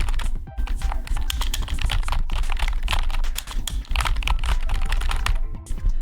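Quiet computer keyboard typing in steady, rapid clusters of soft clicks throughout, close and fairly loud with no talking.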